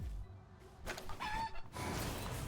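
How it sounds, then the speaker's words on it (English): Chicken clucking in the video game Palworld, several short clucks in a cluster near the middle over a soft ambient game backdrop, fairly faint. "Chicken."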